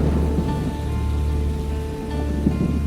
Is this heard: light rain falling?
yes